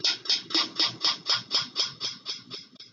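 A drum rhythm plays back from the Groove Pizza web app, about eleven evenly spaced hits in a steady pulse, each with a bright crisp top and soft low body, quiet and alone with no talk.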